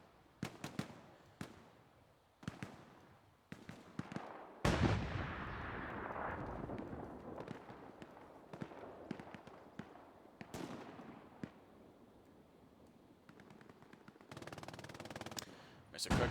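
Gunfire in a battle video game, with machine gun fire, scattered sharp shots, a big booming blast and rumbling explosions in the distance, while a commentator talks over the action.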